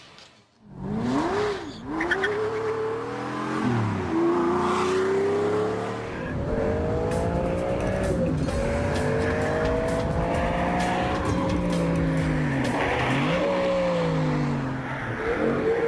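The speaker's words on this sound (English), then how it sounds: "So, let's put the Stig in the Zonda, see what happens" A Pagani Zonda supercar is driven hard around a test track. The engine note climbs and drops repeatedly through gear changes and corners, with brief tire squeal, loud and continuous with no speech.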